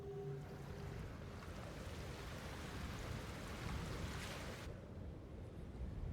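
Water flows and waves wash steadily in Ghost of Tsushima, a constant broadband rush with soft surf swells and faint wind, heard alone at low level.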